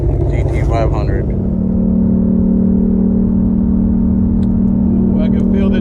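A 2021 Ford Shelby GT500 Track Pack on a track gives a loud, steady engine drone from the cabin as it pulls, with voices talking over it.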